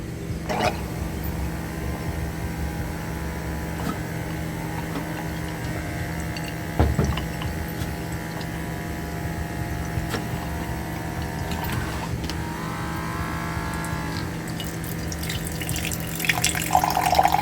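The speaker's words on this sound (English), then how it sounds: "let's just see how long it takes to fill up a glass of water" A USB-charged water pump dispenser pouring a steady stream of water into a glass, a continuous quiet trickle and splash that runs throughout, with no talking.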